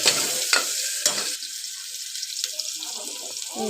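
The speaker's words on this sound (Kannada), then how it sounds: "ಹಾಗೆ ಈರುಳ್ಳಿ ಹಾಕಿ ಚೆನ್ನಾಗಿ ಸ್ವಲ್ಪ ಫ್ರೈ ಮಾಡಿಬಿಟ್ಟು" Onion fries in oil with mint, curry leaves, cinnamon, cloves and cardamom, giving a close, crackling sizzle with a few sharp stirring scrapes early on.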